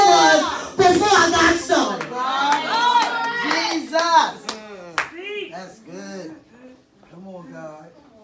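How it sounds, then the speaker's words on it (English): A church congregation claps along with scattered hand strikes, mostly buried under loud, continuous voices singing or speaking, with a few sharper claps standing out near the start and middle. "Y'all start clapping."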